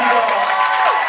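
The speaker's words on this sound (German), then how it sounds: "Einen fetten Applaus für den Real Hard Dynamites" A crowd applauds and cheers for the Real Hard Dynamites dance crew at a breaking event in Germany, a dense, loud wash of clapping and shouts throughout.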